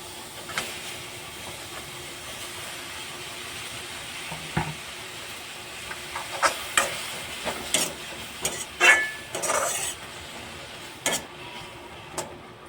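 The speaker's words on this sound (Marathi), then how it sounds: "कांदा फक्त एवढा भाजला यामध्ये आपण घेतलेले टमाटर ॲड करायचे" Onion frying in a pan as tomatoes are added, giving a low steady sizzle with scattered stirring clatters and scrapes that grow busier toward the end, no talking.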